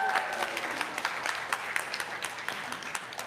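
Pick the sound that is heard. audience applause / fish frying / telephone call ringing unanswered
audience applause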